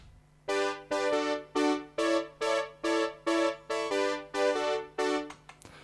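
Roland MKS-80 analog synthesizer playing a layered chord part, about a dozen sustained, bright chord stabs in a steady rhythm with a faint low hum underneath, close and alone.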